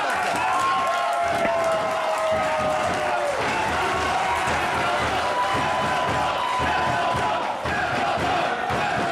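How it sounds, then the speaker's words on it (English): Loud wrestling crowd at a KD Productions Fargo Championship match roaring and cheering steadily throughout, a dense wall of shouting and applause with a commentator's voice buried underneath. "This crowd going bonkers in this KD Productions Fargo Championship match"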